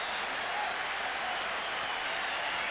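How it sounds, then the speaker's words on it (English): Crowd applause fills a college basketball arena for Virginia at Maryland in 1986, a dense, steady roar of clapping at full loudness throughout, with no audible talk. "He's over there clapping, applauding his ball club."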